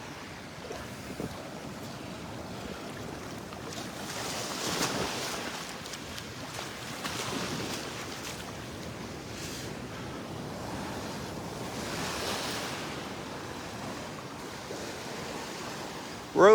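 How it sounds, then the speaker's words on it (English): Wind and surf at Delnor-Wiggins beach make a steady, rushing roar, with waves swelling and breaking and gusts buffeting close to the microphone, and no voices throughout. "The wind's coming out of the northeast or northwest."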